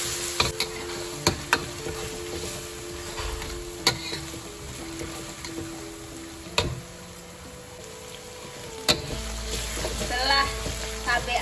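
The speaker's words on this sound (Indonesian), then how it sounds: "Kita gongseng atau ditumis dulu." Bay leaves, galangal, red and curly chilies, shallots and garlic sautéing in a pan, a steady sizzle broken by sharp clacks and scrapes of a stirring utensil.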